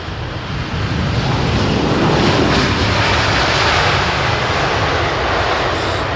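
Fixed-wing airliner arriving at London Heathrow Airport, a loud broad engine roar that swells after the first second and holds steady, heard alone without talk.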